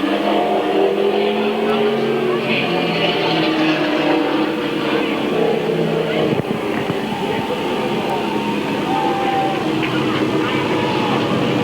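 Super late model race cars roar around Midvale Speedway, a dense, steady wall of engine noise from the field, with an announcer's voice calling the race over it throughout.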